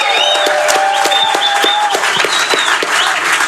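A live audience at Fieldwork Brewing Company in San Ramon claps steadily and loudly throughout, with dense continuous applause and a few scattered cheers and whistles rising above it.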